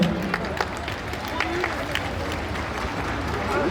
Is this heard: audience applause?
yes